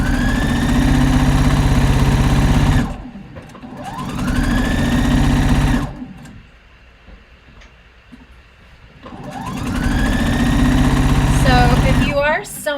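Sewing machine stitching fabric during a boxy harvest top sewing workshop, its motor whirring up to speed in three long bursts separated by a quieter pause, loud and close.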